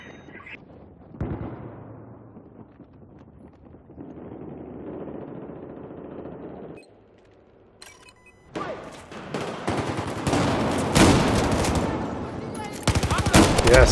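Automatic rifle and machine-gun fire from a Battlefield 4 Conquest match on Operation Locker rattles in loud sustained bursts, with a quieter stretch of game ambience and distant noise before the barrage builds.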